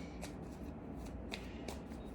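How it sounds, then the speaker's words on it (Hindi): Tarot cards being shuffled by hand, a quick series of crisp riffling flicks repeating close up over a low steady background hum, with no talking. "कितना शफल करेगी?"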